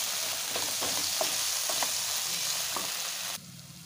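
Pointed gourd pieces fry in oil in a pan, a loud continuous sizzle with repeated light scraping taps of stirring, then the hiss drops suddenly quieter near the end.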